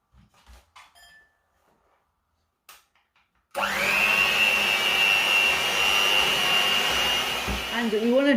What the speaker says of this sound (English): we're going to go ahead and we're going to whisk our eggs and our sugar together